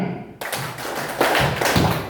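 Children at an orphanage join a group clapping game, striking their hands in a short rhythmic pattern of several sharp claps at close range, with a brief quiet gap before the sequence and room noise between claps.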